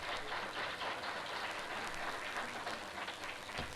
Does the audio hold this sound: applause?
yes